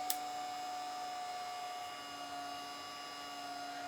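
A hair dryer runs in a steady, faint, even whine with a fixed tone and no change in speed, drying painted faux fruit, after a brief click at the start.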